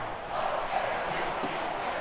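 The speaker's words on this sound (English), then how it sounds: "This crowd turning up the decibel level" A Baltimore Ravens home crowd roars steadily through a football stadium on a 3rd-and-1 play, a loud, dense wall of noise that holds at a constant level.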